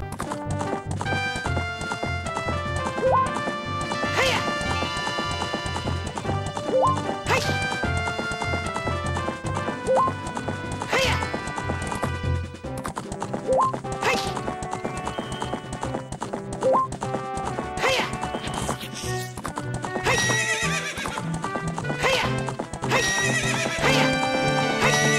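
Horse hooves clip-clop at a gallop with repeated neighs in Zelda: Ocarina of Time Master Quest on GameCube, ridden by the player over a steady orchestral game music bed throughout.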